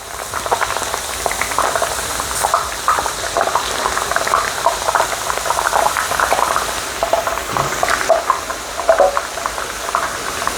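Tortillas and potatoes deep frying in hot oil for homemade chips, a steady dense crackle and sizzle of bubbling oil running throughout with no talk.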